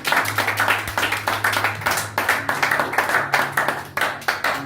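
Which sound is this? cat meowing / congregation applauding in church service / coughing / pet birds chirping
congregation applauding in church service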